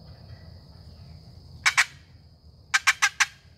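Wild turkey hens answer a custom cedar-over-spalted-holly long box call, with two sharp yelps and then a quick run of four loud close clucks. Between them a high insect-like whine holds steady outdoors.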